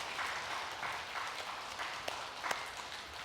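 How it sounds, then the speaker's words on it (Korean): A church congregation claps together during a Sunday worship service, a faint, steady patter of many hands at a distance with a couple of sharper single claps standing out near the end. "우리 한번 박수 한번 해줄까요?"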